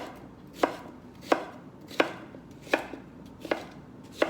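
Five evenly spaced knife chops on a cutting board as cucumbers are sliced into chunks, crisp and close with a steady rhythm and no talking.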